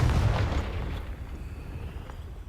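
The Confringo explosive spell cast in the Hogwarts Legacy video game, a deep booming blast that hits loud at once and then rumbles away over about two seconds.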